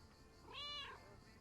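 A cat in the video game Lake gives a single short, clear meow, faint and alone.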